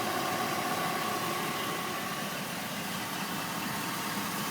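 The 6.0 V8 engine of a 2002 GMC 1500 HD crew cab pickup idles steadily under the open hood, a constant close rumble with no talk over it.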